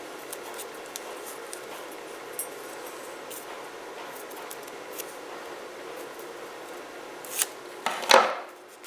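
Small fancy scissors snipping paper for a handmade card, faint quiet rustling and light cuts building to a few sharper, louder snips near the end.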